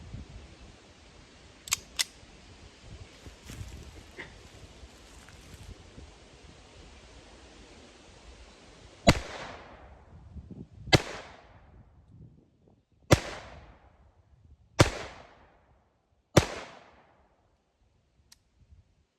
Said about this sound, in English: My last 5 rounds. Shoot them down at the target.